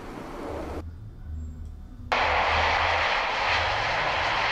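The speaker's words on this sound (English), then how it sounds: "a different kind of engine with a propeller" A propeller aircraft engine drones steadily at close range, dropping out for a moment of near silence before returning louder as an even, rushing roar.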